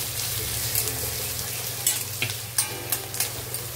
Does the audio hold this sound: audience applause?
no